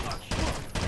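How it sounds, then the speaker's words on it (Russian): Rapid gunfire in the video game Rainbow Six: Vegas: two or three sharp bursts of shots in under a second, loud and close. "Отличный выстрел."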